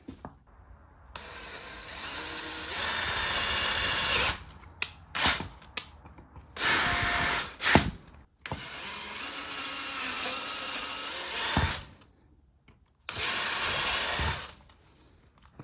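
A power drill with 5/16 and 3/16 bits drills holes on a 2025 Honda CRF450R, whirring in several bursts, some long and sustained, others short stop-start pulses, close and fairly loud with quiet gaps between runs.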